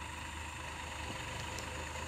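A 60 HP Massey Ferguson 9000 tractor runs steadily in a long field while ploughing, its engine a low, even drone heard at a distance with no talk over it.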